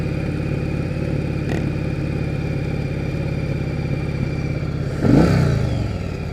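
A 1998 Yamaha Virago XV1100 V-twin motorcycle idling slightly high, a steady close loping engine rumble with a brief louder blip near the end.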